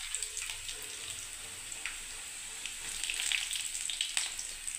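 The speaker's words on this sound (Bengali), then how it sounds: "দেখুন বন্ধুরা প্রথমে আমি রসুনটা দিলাম, 2টো শুকনো লঙ্কা দিলাম বন্ধুরা" Garlic, two dried red chillies and peanuts fry in hot oil in a wok, a steady crackling sizzle with small pops and stirring scrapes, alone with no talking.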